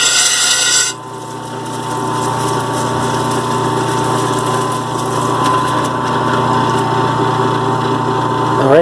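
An 8-inch lapidary grinding wheel at 80 grit grinds stone, whirring steadily with a high motor whine and water splashing, after a brief louder burst at the start.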